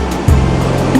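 High river water rushing through a waterfall, a loud continuous roar and churn with a deep thump partway through, heard close and without voices.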